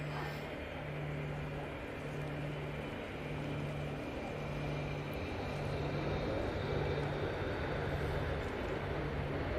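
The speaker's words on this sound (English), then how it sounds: "I can't see this plane for love nor money. I can hear it." A fixed-wing airliner passes over Manchester Airport as a distant, steady engine roar, faint and sustained for several seconds with a low droning hum beneath it.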